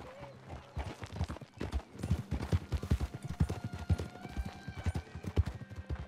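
Horse hooves clip-clop in a steady, brisk rhythm in Red Dead Redemption 2, with a faint game tone and occasional soft background sounds underneath.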